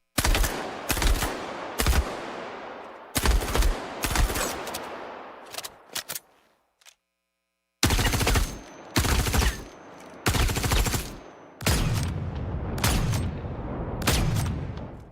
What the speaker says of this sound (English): First, let's listen to some of our weapon sounds in action.